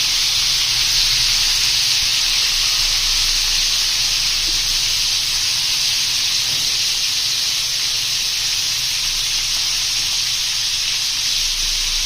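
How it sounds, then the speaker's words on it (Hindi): Eggplant pieces fry in oil in a pan over a medium flame, giving a steady, continuous hiss and sizzle that stays even and close throughout without pause. "थोड़ी देर हमने बैंगन को 2 से 3 मिनट हमने फ्राई करना है।"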